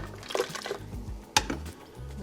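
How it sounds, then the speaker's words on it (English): Warm water and broth for beef head tacos are poured into a cooking pot in soft splashes and drips, with a sharper clink from the pot about halfway through, close and fairly quiet. "Now I'm gonna add a little bit of water in here and rinse it right back in."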